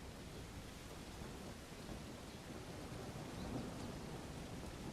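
In the medieval game Bellwright, a continuous rain downpour hisses evenly at low level, with a soft rolling rumble of thunder building slightly toward the end.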